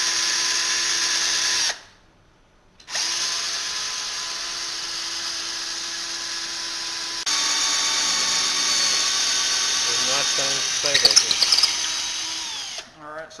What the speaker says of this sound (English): it melts it kind of screws up the drill bit